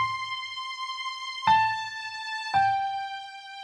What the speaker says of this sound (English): in my right hand, I have the CFX Grand with the strings,